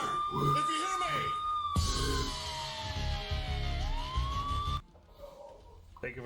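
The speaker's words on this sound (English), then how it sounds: "Because the sirens went off." A wailing emergency siren from the game THE FINALS rises and falls in loud sweeping tones for several seconds, then cuts off, with a voice talking over it and a game soundtrack underneath.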